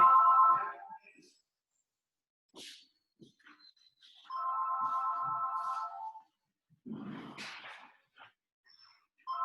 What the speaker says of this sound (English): the phone is ringing constantly